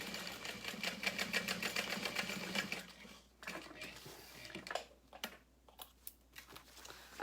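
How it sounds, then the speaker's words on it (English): A sewing machine runs in a steady rapid burst while stitching back over an existing seam line on a small crossbody bag, then gives way to scattered clicks and handling noises; no one speaks. "I'm just gonna sew over that stitch line again"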